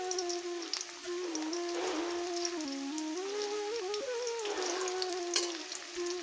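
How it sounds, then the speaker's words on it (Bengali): Cauliflower pieces frying in a little oil in a wok, a soft, steady sizzle under a sustained wavering tonal hum, moderately quiet and continuous. "উল্টে পাল্টে লাল লাল করে ভেজে নেব"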